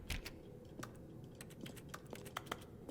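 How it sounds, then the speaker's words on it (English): Quick, uneven keyboard clicks from the video game The Stanley Parable: Ultra Deluxe tap away in bursts against a quiet background, close and fairly faint. "Sounds like I'm typing."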